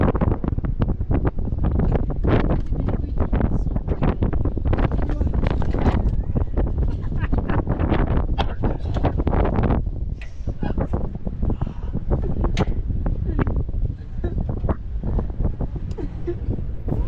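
Wind rushing through the 134-foot Ear of the Wind pothole arch, a loud, continuous buffeting roar with gusty fluctuations that ease slightly toward the end; a voice may be faintly present.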